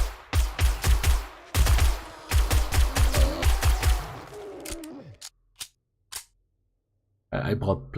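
Rapid volleys of video game gunfire crackle in two long strings of evenly spaced shots, then a few scattered single shots after a gap, with a short burst of speech at the end.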